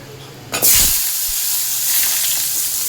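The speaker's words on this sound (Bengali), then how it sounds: "কড়াইতে অনেকটা তেলও আছে। একটা তেজপাতা আমি ছিঁড়ে দিয়ে দিলাম।" A torn bay leaf drops into plenty of hot oil in a wok, setting off a sudden loud sizzling burst that settles into a steady close hiss.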